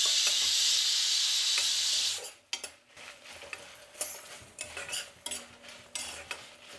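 Chillies sizzle loudly in hot oil in a pan, a dense steady hiss that drops away after about two seconds into repeated scraping and clinking of a spoon stirring against the pan.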